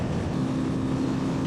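A Yamaha Fazer FZ25 single-cylinder motorcycle engine revs high at highway speed, a loud, close, steady buzzing drone with wind roar and no talk.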